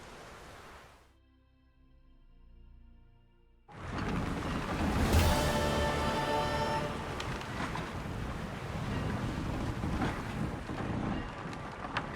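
A sailing ship sets off in The Witcher 3: Wild Hunt, a quiet tonal stretch giving way to a loud sudden rush of wind and sea, with creaking and water surging steadily, no voices.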